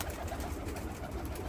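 Van pigeons coo softly in a loft, a low continuous murmur of several birds close by with no voices.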